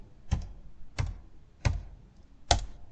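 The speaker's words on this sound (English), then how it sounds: "You go to AliExpress and you type in" Four distinct keystrokes tap on a computer keyboard at an even, unhurried pace while a short search word is typed into AliExpress. The clicks are close and crisp in a quiet room, with no voices.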